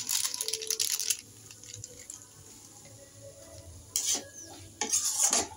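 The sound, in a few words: stirring ghugni mixed with Maggi masala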